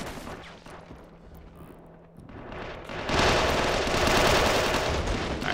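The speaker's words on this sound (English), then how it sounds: "I just overall think that this mod has some pretty cool firefights going for it" Dense, continuous gunfire swells into a loud, sustained roar of automatic weapons halfway through a firefight in Men of War with the Killzone Helghast at War mod, with bursts layered close and far.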